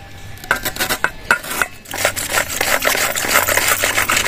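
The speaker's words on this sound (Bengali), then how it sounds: "এই কাটারটা নিয়েছি, এবার কাটারটা দিয়ে কেটে নেব।" A handheld cutter slicing young cabbage finely, producing a series of sharp, crisp scraping strokes, spaced at first and then a denser continuous shredding run close up.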